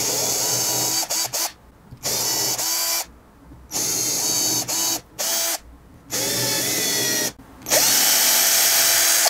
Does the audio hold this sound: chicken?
no